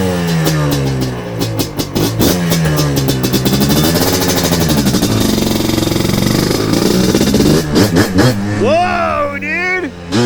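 A ported two-stroke Yamaha Blaster engine idles loud and close on its first start, with a steady buzzing putter that wavers slightly in pitch before a few sharper blips near the end.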